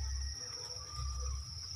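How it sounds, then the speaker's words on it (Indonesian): Honey crickets (jangkrik madu) in a breeding box keep up a steady, continuous high trill, close and fairly loud, with a low rumble beneath and no talking. "Namanya jangkriknya."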